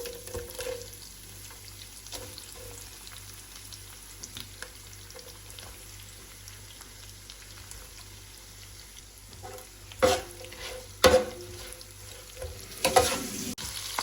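Onions and spices frying for fried rice, a quiet continuous sizzle with occasional scrapes and stirring clatters, several sharper utensil knocks toward the end, no voices.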